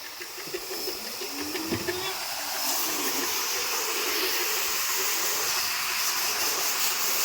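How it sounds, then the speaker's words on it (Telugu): Steam hisses from a truck during a water wash service, a broad steady rush growing louder and sustained, with faint voices in the background. "బండి నుంచి వచ్చే ఆవిరి"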